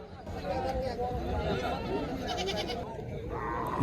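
Goats bleat at a hill livestock market in Subalong bazaar, Rangamati, where cattle, buffalo, sheep and poultry are also sold; repeated bleats sound over a busy murmur of crowd voices.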